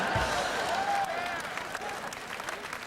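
Telethon audience in Las Vegas applauding steadily, a dense wash of clapping from a sizeable crowd that holds for about three seconds and eases slightly toward the end.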